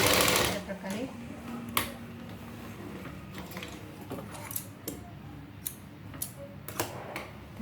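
A sewing machine stitching a sari petticoat, its needle chattering in short runs with ticking pauses and small handling clicks, close and fairly quiet, while a person talks over it.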